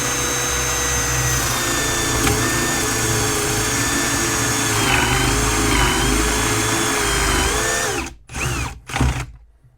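A power drill fitted with a Forstner bit bores a hinge hole through a multi-purpose hinge jig, a loud steady whine with a slightly wavering pitch for about eight seconds before it spins down and stops in short bursts.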